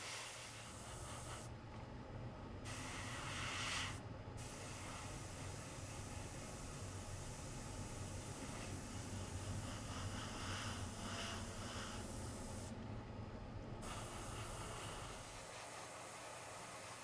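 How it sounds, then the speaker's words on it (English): A continuous airy hiss of an airbrush spraying paint on a 1/48 scale model aircraft runs throughout, broken by a few short pauses, with a low steady hum underneath and no talking. "I'm finally spraying color 4, which is the topside color and the wraparound color."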